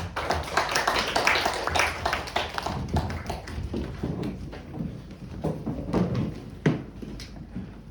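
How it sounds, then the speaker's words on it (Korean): Clapping from a congregation at a Korean student Sunday worship service, with dense, uneven hand claps that keep going for several seconds and sharp individual claps close by. "하나님께 영광의 박수를 올려드리겠습니다."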